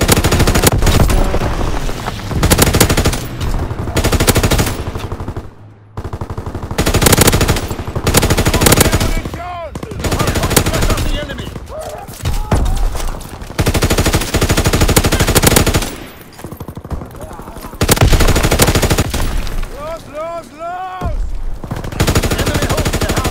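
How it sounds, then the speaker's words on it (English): Loud, sustained machine gun fire from a fighter plane's strafing run in the World War II shooter Call of Duty WWII, dense bursts rattling almost nonstop with brief gaps and scattered impacts. "Fighter pilot inbound, strafing the target."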